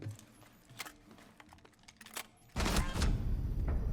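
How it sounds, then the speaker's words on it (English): Gunfire exchanged between two operators in Rainbow Six Siege, scattered sharp shots at first, then a loud sustained burst of rapid fire in the second half. "Gunfire is being exchanged from the IQ and Mute."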